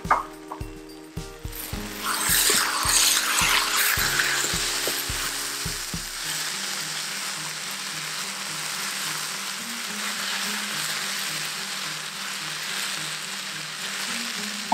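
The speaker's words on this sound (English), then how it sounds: "Let's just give it a stir through." Potatoes frying in a pan are stirred, with steady sizzling throughout and a spoon scraping and clattering against the pan in quick, rhythmic strokes over the first few seconds, then settling into continuous frying hiss.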